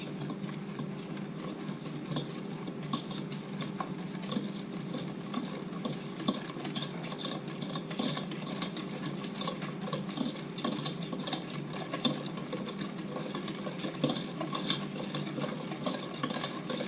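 A whisk beats a custard-like cream for mille-feuille in a bowl, giving a continuous, fast, rhythmic scraping and clicking at close range with no voices.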